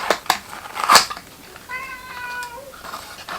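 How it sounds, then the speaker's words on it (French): A cat meows in a drawn-out, slightly rising call midway through, with a few brief clicks and rustles before it, fairly close and indoors. "Le chat."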